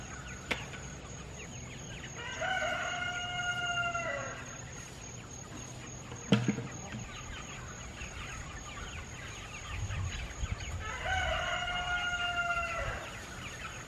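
A rooster on a homestead crows twice, loud and drawn out, with a pause between calls, over faint background clucking from the flock and a brief knock.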